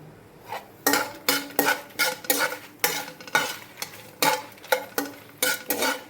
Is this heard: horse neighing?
no